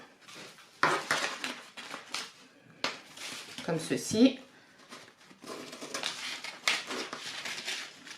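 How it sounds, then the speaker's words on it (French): Scissors snip through fabric along marked lines while making a salsa dress, giving a series of close, irregular crisp cuts with short gaps between them, and a voice talks briefly between the cuts. "Donc, vous coupez avec des ciseaux"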